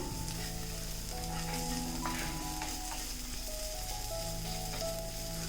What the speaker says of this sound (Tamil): நம்ம நல்லா வெங்காயத்தை வதக்கினா தான் குழம்பு நல்லா டேஸ்ட்டாக இருக்கும்.